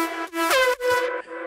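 A bright, harmonically rich main synth lead from an electronic music track plays a short melodic phrase of a few sustained notes with brief gaps and a pitch glide, loud and alone.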